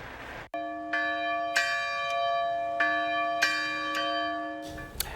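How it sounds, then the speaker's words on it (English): Church bells toll in Uvalde, Texas, on the anniversary of a school shooting, a series of clear, ringing strikes roughly every second with long sustained overtones, heard alone without any voices. "the bells toll in Uvalde, Texas, marking the one-year anniversary of the school shooting"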